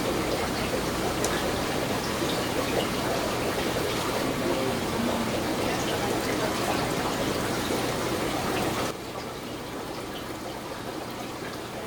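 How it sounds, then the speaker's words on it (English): Plain water pouring into a newly set up aquarium tank, a soft steady trickling and gushing stream that carries on evenly, then drops to a quieter flow near the end. "when you first fill up the tank"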